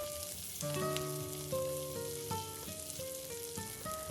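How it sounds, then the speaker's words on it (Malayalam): Sliced onions sautéing with curry leaves in a pan, a soft steady sizzle sitting beneath melodic background music that plays throughout. "കുറച്ച് കറിവേപ്പിലയും ചേർത്ത് കൊടുത്ത് ഉള്ളി ഒന്ന് നന്നായിട്ട് വഴന്നു വരുന്നവരെ വഴറ്റിയെടുക്കണം"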